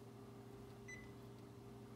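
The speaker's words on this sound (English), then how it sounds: "The oven's going on." A kitchen oven gives a single short electronic beep as it is switched on, faint against a steady low appliance hum.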